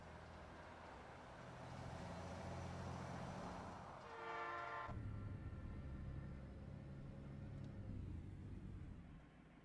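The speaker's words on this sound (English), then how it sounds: "Sounds more like a freight train." A freight train rolls past a railroad crossing as heard from inside a truck hauling two big trailers of hay, with a loud, sustained rumble and a horn blast in the middle, under the steady truck cab noise.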